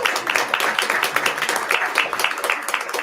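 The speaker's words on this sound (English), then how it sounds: "One more round of applause for our dedicated educators." An audience applauds educators at a school district work session, dense steady clapping from a crowd, fairly loud and continuous throughout.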